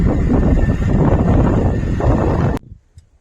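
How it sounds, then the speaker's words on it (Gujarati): Heavy wind during a windstorm buffets the microphone in loud, rumbling gusts for most of the clip on a farm, then cuts off abruptly into near quiet. "પવન બહુ છે કાંઈ સંભળાય નહીં"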